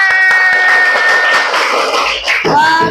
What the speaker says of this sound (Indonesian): Oke, anak-anak semangat semua, tepuk tangan.